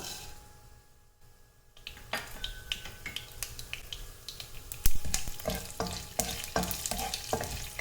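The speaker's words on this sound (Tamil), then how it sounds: "கடுகு நல்லா பொரியிற அளவுக்கு நம்ம வெயிட் பண்ணிக்கலாம்" Mustard seeds and urad dal splutter and pop in hot oil, sharp irregular crackles growing busier and louder as the sizzling builds.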